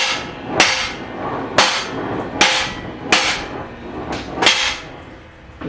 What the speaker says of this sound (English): Just move everything over with a hammer.